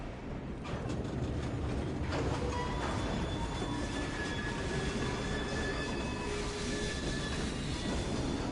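A steam-era train running in Assassin's Creed Syndicate's Victorian London, a steady heavy rumble of wheels and carriages with thin metallic squeals drifting over it, loud and continuous throughout.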